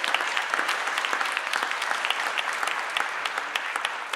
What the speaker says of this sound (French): Donc je vous propose de faire une immense ovation pour votre directeur. Voilà, applaudissons-le.